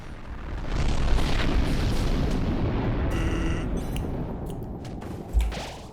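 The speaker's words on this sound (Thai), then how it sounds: "แล้วก็ระเบิดออกมา" A deep rumbling blast from a Roblox explosion swells and lingers as a long roar, with a sharper thump near the end, loud and close.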